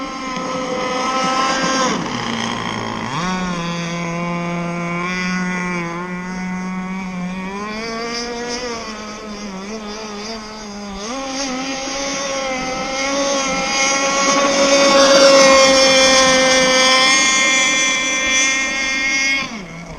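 A small 30cc Zenoah gas motorboat engine drones steadily and loudly, its pitch rising and falling as it runs across the water.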